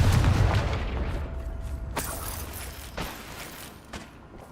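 A Confringo fire spell in Hogwarts Legacy goes off as a loud booming blast at the start, decaying into rumbling crackle with a few sharper pops trailing behind.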